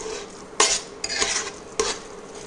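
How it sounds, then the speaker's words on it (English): A spoon stirs coconut cream and sugar cooking in a pot for Thai mango sticky rice, giving three brief, close metallic scrapes and clinks against the pot over a soft background hiss. "only 2 teaspoons of sugar and you're gonna mix and cook it for 2 minutes."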